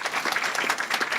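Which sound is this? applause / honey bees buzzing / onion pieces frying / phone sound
applause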